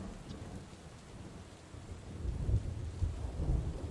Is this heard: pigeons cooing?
no